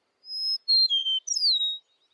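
Eastern meadowlark song: a few clear, sweet slurred whistles, the last note sliding downward, heard alone and fairly close over silence.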